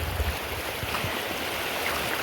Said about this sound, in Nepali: खोला तर्यौँ